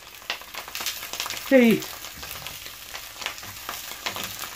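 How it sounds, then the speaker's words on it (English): Sausages sizzle steadily in a red-hot pan, a close, continuous crackle with a short squealing burst partway through. "we're just going to get these sausages right in"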